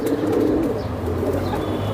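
Giribaz racing pigeons coo softly and repeatedly in a loft, low throaty calls layered over a steady background hum with no talking.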